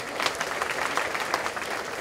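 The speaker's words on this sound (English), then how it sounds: "Let's give Dennis a round of applause" An audience at an annual meeting applauding a board member, a dense, steady patter of many hands clapping together, moderately close and unbroken for a couple of seconds.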